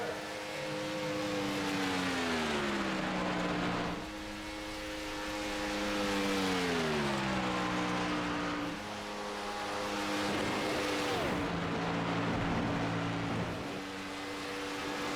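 Race car in a racing video game runs a qualifying lap on a 500 oval, engine holding a high steady drone with rising and falling pitch as it cycles through turns, continuous and close.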